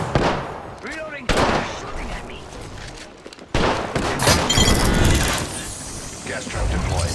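Loud, dense gunfire fills a battle in Apex Legends: rapid bursts and rattling volleys come in waves, with a brief lull before a second heavy barrage.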